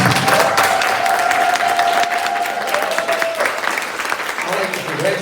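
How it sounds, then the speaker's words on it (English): Audience at a high school commencement ceremony applauding the graduates, loud crowd clapping that gradually thins, with a sustained tone and some voices mixed in beneath. "give a round of applause to all of our graduates here today"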